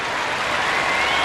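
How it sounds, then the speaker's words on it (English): Steady, loud applause from a home crowd in Russia greeting figure skater Irina Slutskaya at the Cup of Russia, a dense wash of clapping filling the whole moment. "Listen to the crowd."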